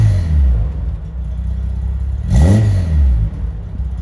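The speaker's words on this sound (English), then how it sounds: "So once the car's actually warmed up and it's at operating temperature, it starts to sound like this" A warmed-up Nissan Skyline C110 Kenmeri engine runs near and loud at operating temperature, settling into a low idle with one brief rev swelling in the middle before dropping back.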